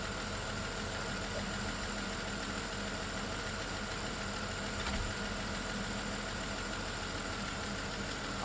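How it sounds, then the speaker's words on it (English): A 1997 Dodge Grand Caravan SE, revived after sitting abandoned on a farm for over four years and running a quart low on oil, idles with a steady, even engine drone heard close up, with no talking. "Motor's quieting up nice."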